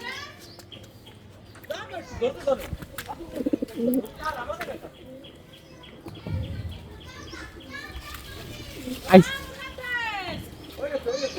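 Racing pigeons coo and flutter nearby at the end of a 360 km race while several people talk and call out around them, with occasional sharp wing claps.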